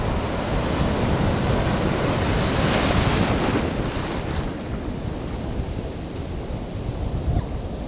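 Ocean surf waves wash in as a loud, continuous close roar, mixed with wind buffeting the microphone, with one swell of surging water peaking midway before settling back.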